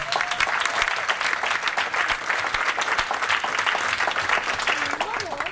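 Diners at a supper gathering applaud Sister Cécile in the middle of the hall, a loud, continuous patter of many hands clapping with scattered voices and a few cheers mixed in.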